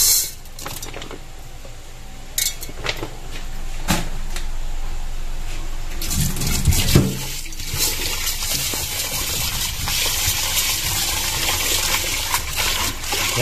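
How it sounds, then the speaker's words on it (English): Basmati rice being washed in water, with a steady gush and splashing of water running and swirling through the grains, continuous and fairly close, with no talking. "hugasan lang po natin yung ating basmati rice. Make sure na mahugasan natin natin na maayos."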